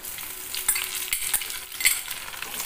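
Sliced tomato and green chillies fry in a pan for veg biryani, soft sizzling broken by a few scraping stirs, fairly quiet and without any voices.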